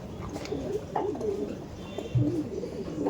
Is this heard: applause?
no